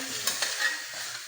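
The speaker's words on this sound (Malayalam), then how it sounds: "മസാല റെഡി ആയപ്പോൾ മട്ടൻ്റെ ബോട്ടി വെന്തത് നമ്മൾ മസാലയിലേക്ക് മാറ്റുവാണ്" Cooked mutton pieces go into a pan of hot masala and sizzle loudly and steadily up close, with a couple of soft scraping stirs over the constant frying hiss.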